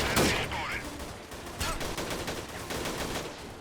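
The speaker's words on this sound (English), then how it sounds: "I'm going to shoot a couple of them." Rapid gunfire while shooting enemies in the Freeman: Guerrilla Warfare video game, dense overlapping shots and bursts heard loud and close throughout, with a sharp crack near the start.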